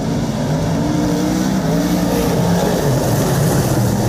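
V8 dirt modified race cars roaring around a dirt track during a heat race, a dense, loud, continuous engine drone with no break.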